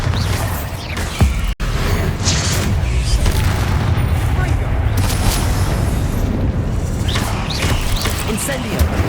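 Heavy blasts from the Bombarda spell in Hogwarts Legacy boom loudly and densely over a roar of rumbling debris, with one sharp crack early on and more crashing impacts throughout.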